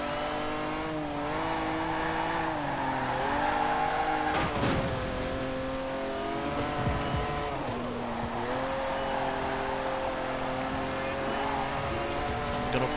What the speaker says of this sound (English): Sounds a little better as well in terms of the engine noise